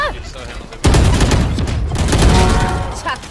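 A Brawlhalla bomb goes off in a sudden loud burst, followed by a dense roar of blasts and gunfire-like crackle that rolls on for a few seconds. A voice shouts just before the hit.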